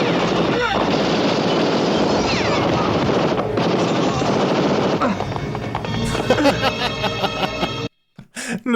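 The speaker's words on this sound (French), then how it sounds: "C'est par là la fusillade?" Gunfire from a film soundtrack, sustained dense bursts of machine-gun-like fire for several seconds, then thinning into scattered shots with voices heard over it.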